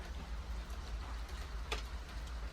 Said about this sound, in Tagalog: Pakita ko sa inyo ang ulan dito sa Canada.